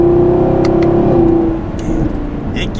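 A 2019 Chevrolet Camaro SS with a 10-speed automatic accelerates hard in one loud, sustained engine drone that dips briefly around a quick gear change, then pulls on steadily.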